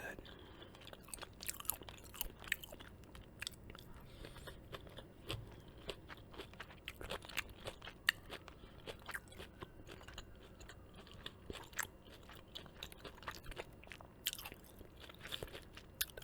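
Close-up ASMR chewing of smoked salmon from Whole Foods and kale with cayenne, many small moist crunches and clicks in an irregular rhythm, soft and intimate throughout.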